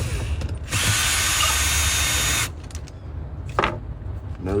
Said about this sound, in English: I like to drill.